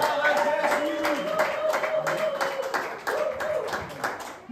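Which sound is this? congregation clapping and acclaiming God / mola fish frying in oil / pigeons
congregation clapping and acclaiming God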